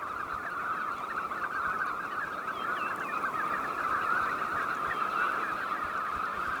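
A huge flock of knot arriving at a Norwegian fjord at the end of May makes a dense, continuous wash of chattering calls that holds steady throughout, with no voices.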